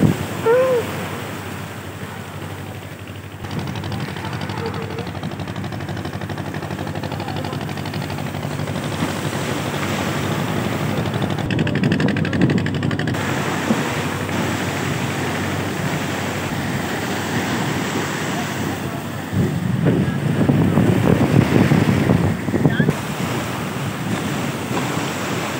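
High tide waves surge and break at Digha Mohana beach, a loud continuous roar of surf with heavier crashes and gusting wind buffeting the microphone.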